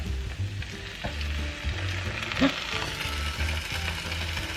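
Vegan dinner frying in a pan as tomato sauce goes in, a steady close sizzle with a few louder bursts and stirring clatter, no talking.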